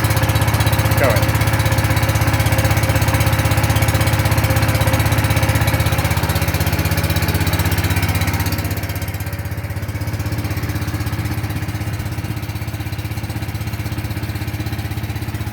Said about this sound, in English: we can pull start the engine, and then we're going to move the choke, that grey lever, over to the right. It should start.